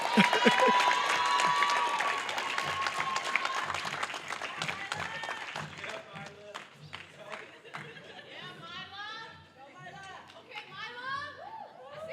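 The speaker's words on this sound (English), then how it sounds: "Let's give Mila another huge round of applause." A banquet hall crowd at a college athletics end-of-year banquet breaks into loud, dense applause that gradually thins into scattered claps, with chatter and voices rising underneath.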